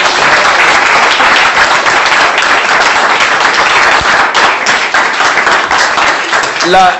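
A church congregation applauding during a French-language sermon, dense sustained clapping filling the whole stretch, loud and steady, with a voice rising briefly at the end.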